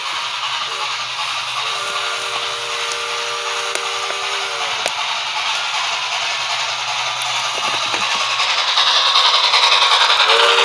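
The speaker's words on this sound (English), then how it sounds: "I'm just gonna let you hear the engine go around" A Bachmann Spectrum K4s post-war model steam locomotive circles its track at moderate speed, giving a steady whirring motor hum and soft rail rattle with occasional clicks of wheels over track joints, continuous and close.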